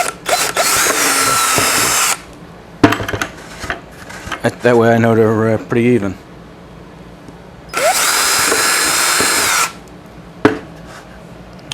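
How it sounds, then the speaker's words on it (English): A power drill bores holes into a plastic bucket just above the handle, with several loud, close bursts of whining motor and cutting, a rising-pitch spin-up in the middle and brief pauses; someone speaks between bursts. "the first thing we're going to do is drill holes in this bucket here"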